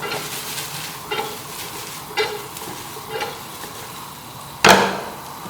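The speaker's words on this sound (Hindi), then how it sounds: "तो अच्छी तरह मिक्स करेंगे ताकि इनको ऑयल लग जाए नीचे से ना। इसका उछाला देंगे हम इसको।" Chicken and vegetable fried rice stir-frying in hot oil in a pan, with steady sizzling broken by several short scraping tosses and a loud clattering toss near the end, with no talking.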